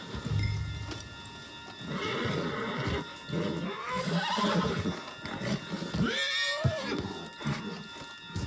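A horse in Red Dead Redemption 2 neighs loudly and shrilly, with hooves clopping and rustling movement throughout, close by.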